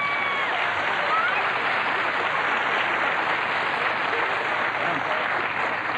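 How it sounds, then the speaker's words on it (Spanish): Steady, dense studio-audience applause on a Mexican TV variety show, continuous and even throughout six seconds with no talk over it. "Fuerte el aplauso para los figuren"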